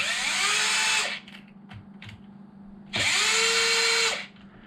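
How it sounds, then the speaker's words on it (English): Power drill on a Mojave off-road speed build, loosening the differential cover screws: two loud whirring bursts of about a second each, separated by a short pause with faint clicks, close and with no talk. "you got to loosen up these two screws"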